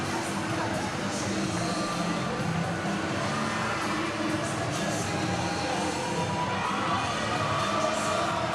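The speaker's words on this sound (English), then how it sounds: "their crowd is definitely cheering really loud" A packed gym crowd at a Flower Mound vs Marcus volleyball match cheers loudly and steadily, a dense, continuous roar of voices that stays close and full throughout with no pauses.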